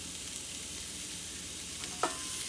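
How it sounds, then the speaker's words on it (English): Ground beef and vegetables fry in avocado oil in a large pot, a steady soft sizzle with a brief stir or clink near the end; no talking. "the vegetables are starting to caramelize and cook in the avocado oil and the ground beef"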